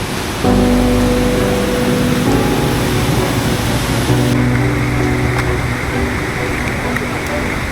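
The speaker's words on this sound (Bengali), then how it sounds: "এখন সেই ঝিরি একটা খরস্রোতা নদীতে রূপ নিয়েছে" A forest stream swollen by a flash flood rushes as a torrential river, a loud, continuous roar of churning water close by, with a faint tonal hum in the background.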